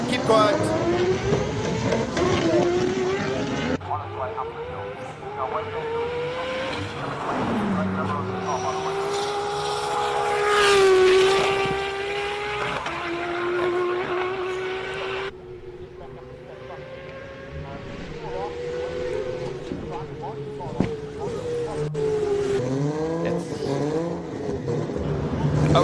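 Race cars charge up the Simola Hillclimb course in a powerful, sustained engine roar rising and falling through revs, loud and continuous, with a commentator talking over it.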